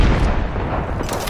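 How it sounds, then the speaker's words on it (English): A frag grenade explodes in the Apex Legends video game, a loud booming blast that rolls off over about a second, with no voices. "Frag grenade sent."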